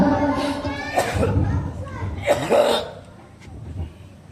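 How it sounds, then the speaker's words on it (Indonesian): Several coughs and throat-clearing sounds rise from a crowd at a football match, mixed with murmuring voices and background chatter. "Banyak yang batuk ini hari"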